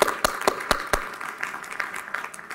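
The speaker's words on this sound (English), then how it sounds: "So I think that deserves a round of applause." Audience applause at a sports-for-climate-action event, starting with a few loud, distinct claps near the front that blend into a thinner, scattered clapping crowd, moderately close.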